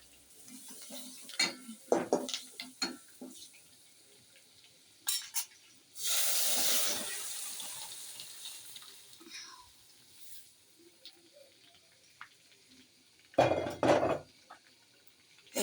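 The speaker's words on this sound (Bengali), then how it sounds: "আমি ডালটা ঢেলা দেব।" Cooked chickpea dal is poured through a perforated strainer: scattered clinks and utensil knocks, then a sustained wet rushing pour, later a second short burst of pouring, all fairly close.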